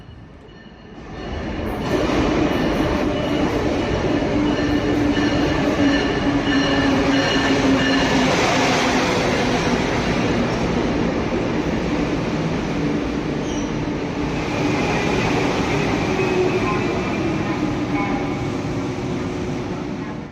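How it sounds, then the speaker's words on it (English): An Amtrak Acela Express high-speed train rolls into the platform with a swelling, steady roar of wheels on rails, brief squeals and hissing, loud and close for the whole stretch. "our train arrives inbound from Washington DC's Union Station"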